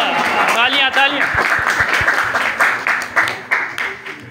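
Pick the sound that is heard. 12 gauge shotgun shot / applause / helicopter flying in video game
applause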